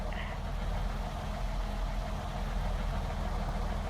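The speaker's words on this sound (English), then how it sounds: "You can hear the sounds of the engine." A running engine gives a low, steady rumble with an even hum throughout, moderately quiet and unbroken, with no talking over it.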